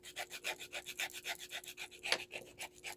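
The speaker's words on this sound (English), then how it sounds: "So I'm just filing down my nails with the coarse grit so I can get that nice oval shape." A coarse grit nail file is drawn quickly back and forth across fingernails, a steady run of about a dozen soft, close rasping strokes at a brisk, even pace, faint and without speech.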